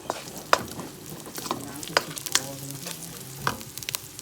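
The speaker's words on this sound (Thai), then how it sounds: "เราก็เอาน้ำมันเทลงไปแล้วก็พริกแกง เพิ่มนิดน ึงใส่มานะคะพริกแกงผัดให้หอม" Thai curry paste stir-fried in oil for a homemade catfish curry, giving a low, steady sizzle broken by scattered scraping stirs of a utensil against the pan, close and fairly quiet, with no talking.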